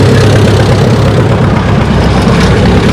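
A tractor engine at a tractor pull roars loud and steady, a dense, continuous low rumble that holds without a break.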